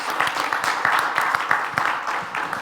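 Steady applause from a crowd, many hands clapping in a dense, continuous patter at moderate loudness.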